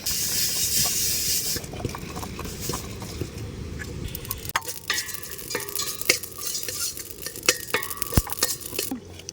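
Cumin, fenugreek and mustard seeds are dry-roasted in a clay pot, with a continuous dry rustle and hiss as they are stirred and frequent scraping ticks and taps from the spoon. A louder burst of hiss comes at the start.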